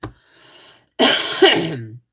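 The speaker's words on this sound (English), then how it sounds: "I'm sorry if I'm snorting and coughing and stuff." A brief quiet cough, a pause, then one loud, close throat clearing with a harsh rasp.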